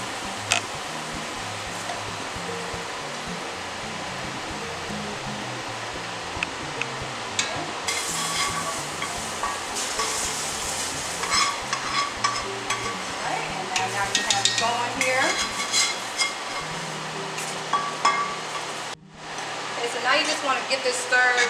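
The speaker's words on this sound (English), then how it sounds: "Definitely got a sizzle to it, but it's okay." Roux poured and stirred into boiling water for stew gives a steady, loud sizzle and hiss throughout, with small scraping and ticking sounds from the stirring and a brief dip near the end.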